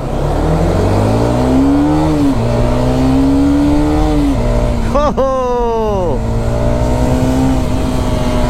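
Motorcycle engine while riding, either a Hero Karizma 210 or a Bajaj N250, a steady close drone that climbs through gears, with a sharp rev burst near the middle.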